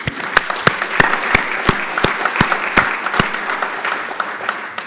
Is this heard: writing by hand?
no